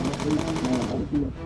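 Rapid automatic gunfire in the World War II bomber game Bomber Crew, a steady stuttering burst lasting over a second, loud and close, then a second short burst after a brief gap.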